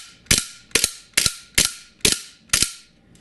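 A KWC Desert Eagle .50AE airsoft pistol fires six blowback shots on green gas, each a sharp loud crack with a metallic slide clack, spaced about half a second apart, close by with no talking.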